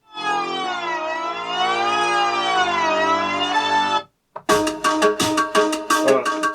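A groovebox launches a synth sequence: a sustained, wavering synth tone rings for about four seconds, then after a brief gap a punchy rhythmic beat pattern with bright hits starts, loud and close, with no voice.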